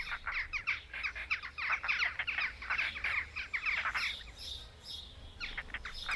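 Jackdaws call at a crowded nesting site in a rapid chorus of short, harsh chacking notes, a burst of overlapping calls followed by a brief lull and a few more, fairly distant and soft.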